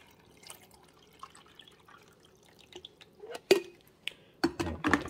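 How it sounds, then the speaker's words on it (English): Water is poured into the rear reservoir of an Amazon Basics 5 Cup coffee maker: faint trickles and drips build to louder splashing and clinking near the end. "We're going to put the water in the back again."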